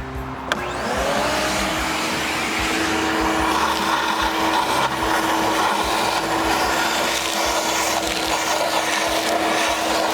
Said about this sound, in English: we're gonna go ahead and try to get the vacuum, just clean it up the best we can